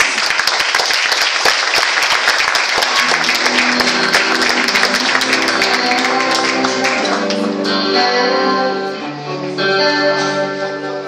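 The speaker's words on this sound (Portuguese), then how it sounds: "Eu aplaudo o Senhor mais uma vez." A church congregation applauds loudly and continuously at a youth service, the dense clapping gradually blending into sustained music with held tones toward the end.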